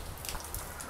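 Rain falling during the Durga Puja season in Kolkata, a faint, steady patter and hiss of drops on surfaces with no voices.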